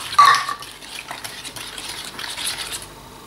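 Eggs and double cream for ube ice cream are stirred in a bowl. A sharp clink starts it, followed by steady, soft swishing and scraping close by with no talk.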